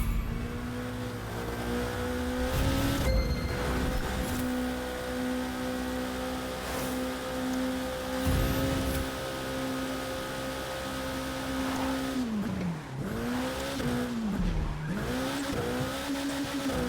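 A race car in The Crew 2 driving through town, engine droning steadily then revving, with bursts of tire squeal and skidding as it takes a corner.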